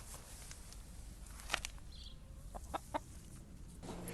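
Chickens in a farmyard flock cluck in a few short, separate bursts against quiet outdoor background, fairly close.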